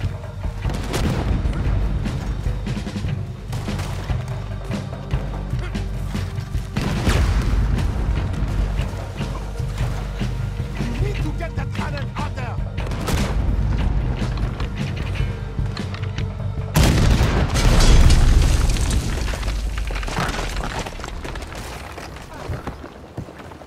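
Cannon fire in the Red Dead Redemption 2 video game booms loudly in several heavy blasts over continuous battle noise, the strongest bursts near the start and late in the sequence, with talk mixed in.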